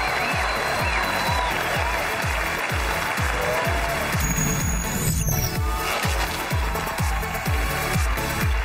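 A studio audience applauds the entrance of xiangsheng comedian Ma Zhiming. Loud, dense clapping carries a steady rhythmic thump underneath and continues without a break.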